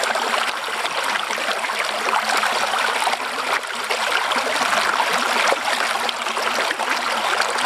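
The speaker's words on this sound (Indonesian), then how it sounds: "Kalau enggak kita cuci aja ya," Running water streams steadily over ingredients being washed for a palm-sugar coconut-milk kolak dessert, a continuous close rushing trickle with no talk.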